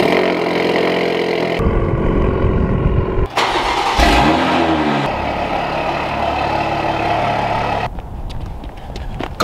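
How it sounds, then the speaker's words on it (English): Ford Focus engine cold-starting: the starter cranks, the engine catches and revs up with a few abrupt bursts, then settles into a steady, loud idle close by. "Cold startup."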